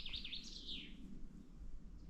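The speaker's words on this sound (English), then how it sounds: "That was chaffinch." A chaffinch sings a quick descending run of bright notes in a wintry outdoor setting. The notes are faint and distant over a low rumble of background noise.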